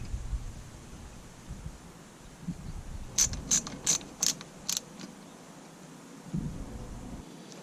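A hand ratchet clicks in a short quick series of sharp ratcheting strokes while tightening the screw on the MAF sensor of a cold air intake, close up in a quiet garage-like space with no talking.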